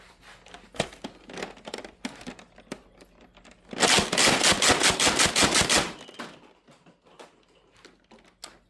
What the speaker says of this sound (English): We try Slam Fire.